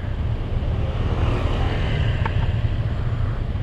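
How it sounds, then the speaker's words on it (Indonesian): A motorcycle in a slow traffic jam in Bukittinggi, West Sumatra, during the Lebaran holiday traffic. Its engine gives a steady low rumble mixed with wind noise, with no talking. "Panjang sekali kawan-kawan macetnya ini."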